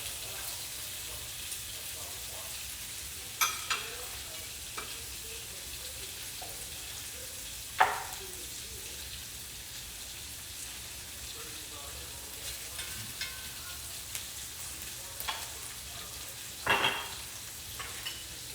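Onions, peppers and smoked sausage fry in a pan with a faint, steady sizzling hiss, broken by a few sharper clicks and scrapes from stirring.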